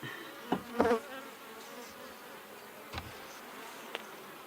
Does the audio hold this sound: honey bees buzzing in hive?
yes